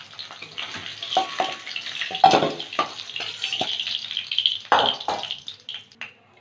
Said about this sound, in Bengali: কুমড়োটাও ভেজে নেব।